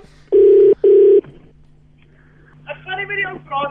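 Telephone tones after a dropped prank call: two loud, steady beeps in quick succession, then a short lull before a voice speaks over the line.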